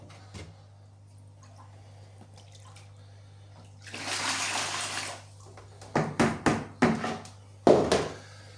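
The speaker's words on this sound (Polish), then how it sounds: "ja sobie pójdę te korpusy przemyć pod bieżącą wodą" Water-filter housings rinsed under a running tap: a steady rush of water for about a second, then several short splashing bursts as the housings are moved under the stream, over a low electrical hum.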